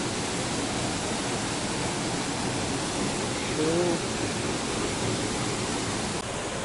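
The Concórdia waterfall in Guapimirim, Brazil, pours with a steady, dense broadband roar that fills the scene, with a brief excited shout from a man partway through.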